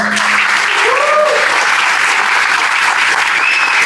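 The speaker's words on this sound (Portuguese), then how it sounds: "Eu queria que os representantes dos 3 jogos viessem ao palco para serem celebrados com uma salva de palmas, por favor." Applause from an audience at a game jam award ceremony as winners are called to the stage, a loud, steady burst of clapping with a few whistles and voices mixed in.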